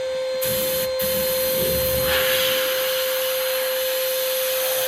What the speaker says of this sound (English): All you got to do is pull the trigger. You're going to get sand,